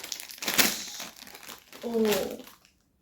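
Someone opens a strange supermarket snack packet, with crinkling and crumpling plastic through the clip and brief voices underneath, then quiet at the end.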